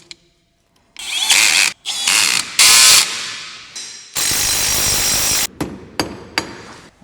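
Power tool and ratchet fastening parts on the wheel hub of an old farm ATV during suspension repair: several loud, close mechanical bursts of whirring and clicking, separated by short pauses, ending with a few brief knocks.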